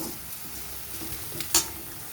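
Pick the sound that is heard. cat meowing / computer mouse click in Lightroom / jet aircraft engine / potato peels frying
potato peels frying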